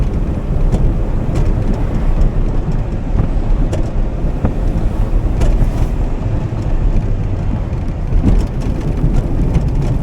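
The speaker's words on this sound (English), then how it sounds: "Misfire." A Yugo car drives along with its engine misfiring, a rough, irregular rumble under heavy wind buffeting and road noise, loud and continuous, with sporadic sharp knocks.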